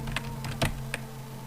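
Keys clack in a few quick, sparse taps on a worn computer keyboard with some broken keys, close and fairly quiet over a steady low background hum.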